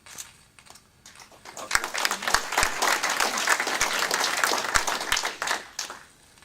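A small crowd claps at a banquet, starting sparse and swelling into steady applause before tapering off, heard at moderate distance.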